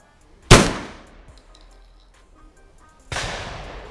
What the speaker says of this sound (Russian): Первый выстрел.